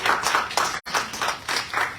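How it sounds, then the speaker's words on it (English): An audience claps steadily and warmly for a man who has lost 30 pounds, the slaps dense and rhythmic, fairly close, with a brief gap partway through. "Everybody give him a round of applause."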